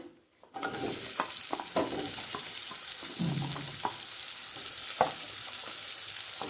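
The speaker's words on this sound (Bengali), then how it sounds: "পেঁয়াজটা তিরিশ সেকেন্ড মতো প্রথমে ভেজে নেব" Onion fries in a pan over a medium gas flame, giving a steady hiss broken by scattered clicks and scrapes of stirring, fairly close and moderately quiet with no voices.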